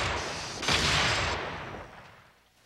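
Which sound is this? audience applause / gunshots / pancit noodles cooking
gunshots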